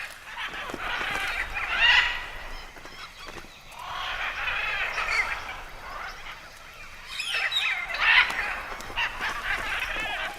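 Macaws and mealy parrots squawk and squabble in loud, harsh bursts that rise and fall in three clusters, close by and overlapping, with no voices present.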